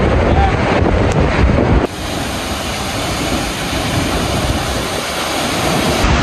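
Awasen waterfall in Ilocos Sur roars with heavy falling water, a dense, constant broadband rush close by, buffeted by wind on the microphone, with the roar steadying after a brief shift.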